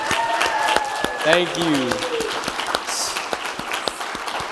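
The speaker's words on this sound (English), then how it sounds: "Can we give one more mighty applause for our girls' It's ministries?" An audience at a Royal Rangers and Girls Club awards night applauds the girls' ministries, a sustained roomful of clapping with a voice speaking over it near the start.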